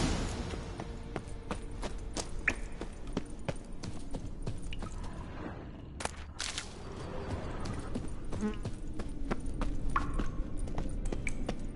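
Horse hooves clip-clopping in a PS4 video game, a continuous run of rapid, evenly spaced hoof clops with a few sharper knocks, heard alone.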